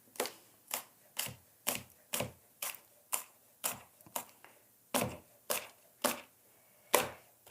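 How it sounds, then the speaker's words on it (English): Serrano peppers are diced on a cutting board for pickling, with about fifteen crisp knife taps in a steady, evenly spaced rhythm, close and clear with no talking. "serranos I am dicing just a little bit finer"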